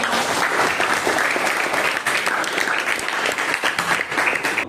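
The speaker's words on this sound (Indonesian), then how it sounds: "tepuk tangan untuk jelas" Energetic classroom applause as students clap for their groups during an Islamic studies lesson, with dense, lively clapping from the whole class at close range, steady throughout.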